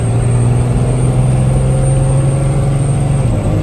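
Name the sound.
21,500 pound truck hard accelerating from dead start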